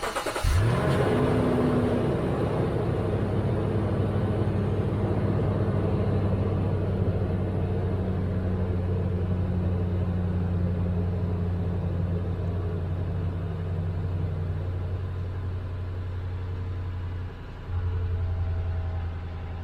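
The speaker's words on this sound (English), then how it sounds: "That was a cold startup with the stock" A Lexus GX460 V8 on its stock exhaust fires up from cold with a sharp crank and catch, then settles into a loud, steady high idle that slowly drops in pitch, heard close with no talking.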